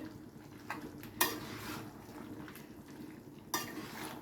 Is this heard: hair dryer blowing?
no